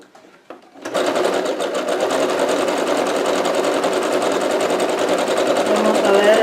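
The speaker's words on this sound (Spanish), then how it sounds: "Y ahora voy a hacerle el zigzag por el lado." A Singer Quantum 9960 sewing machine stitches a zigzag along a pressed hem with presser foot B. After a second of quiet clicks it starts up and runs in a steady, fast, close mechanical hum to the end.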